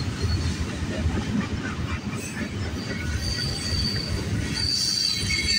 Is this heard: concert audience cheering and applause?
no